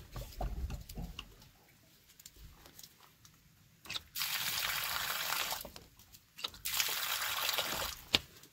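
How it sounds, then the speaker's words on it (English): Water rushes from the valve of an IBC tank used for off-grid tiny house storage, two sustained bursts of broadband flow, close and fairly loud, with quieter handling sounds between. "We've got water."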